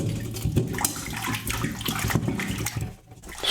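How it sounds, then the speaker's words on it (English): Water splashing and pouring over raw chicken in a sink, close and uneven, with gurgling bursts that briefly dip near the end. "Throw off this dirty chicken water and then pour fresh water on it"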